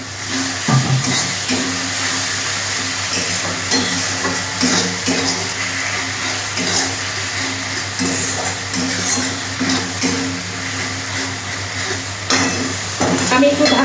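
Masala fries in a pan as a little water is added, giving a loud, steady sizzle and hiss under repeated stirring strokes and scraping of a spoon against the pan.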